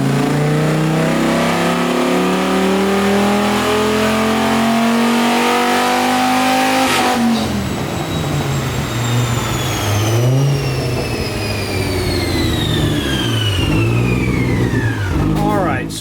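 A nitrous-fed Dodge Viper engine revs on a dyno run, climbing hard under load through a long loud pull, then the pitch sweeps and falls, with speech faintly mixed under the roar.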